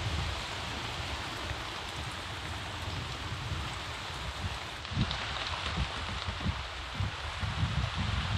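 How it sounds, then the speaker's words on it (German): Steady rain falls on a jungle, a dense continuous hiss with a few heavier drops and patters toward the end, close and fairly even, with no voices. "der kalte Regen kommt ja von oben"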